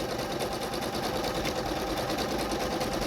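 A Singer Monami SC300 computerized sewing machine with built-in embroidery runs steadily at close range, giving a continuous even whir with a fast, regular mechanical rhythm and no talking over it.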